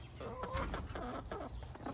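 Backyard hens in a coop cluck in short, close, rapid bursts, several birds overlapping in a busy, slightly scratchy chatter.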